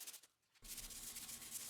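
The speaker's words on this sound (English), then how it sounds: "I'm sanding the bare metal areas with 80 grit and starting to feather the edge of the OEM paint." Sanding bare metal on a Honda CR-V body with 80 grit sandpaper, feathering the edge of the original paint: a brief quiet pause, then a steady, close, loud abrasive scratching rasp that continues alone.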